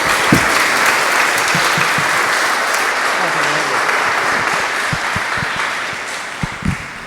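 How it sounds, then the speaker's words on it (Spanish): An audience in a parish church applauds to welcome a speaker: a dense, steady burst of clapping that stays fairly loud for about seven seconds before easing slightly. "les damos un fuerte aplauso y bienvenido"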